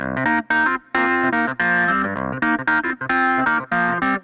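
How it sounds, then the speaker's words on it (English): A punchy, funky clavinet riff from Logic's 70s funk clav preset, short staccato chords and notes, bright and percussive, played in a tight rhythmic pattern with no voices. "This is just the standard Logic clav, and I use the 70s funk clav preset."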